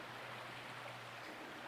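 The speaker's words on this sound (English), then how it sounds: "We are right on the creek." A creek flows beside a backcountry campsite in the North Georgia mountains, giving a steady, soft rushing wash with no talk over it.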